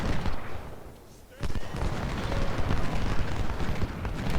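Cannon fire in an American Civil War battle at Shiloh in Ultimate General: Civil War, a sudden heavy boom that breaks a brief lull and is followed by sustained rumbling gunfire and battle noise.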